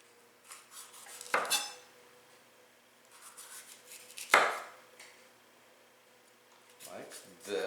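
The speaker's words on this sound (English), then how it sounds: "I cut down the walls of the pepper." A knife cuts down the walls of a bell pepper on a board, producing three separate sharp cutting strokes, with a person talking between them.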